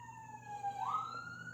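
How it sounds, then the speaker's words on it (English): A wailing emergency siren sweeps downward then rises again, heard from a short distance over low traffic rumble. "You hear the sirens?"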